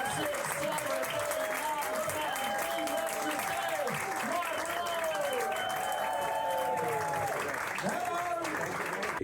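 Comedy show crowd at the Edinburgh Fringe applauding and cheering, with a dense, steady wash of clapping mixed with whoops and raised voices throughout.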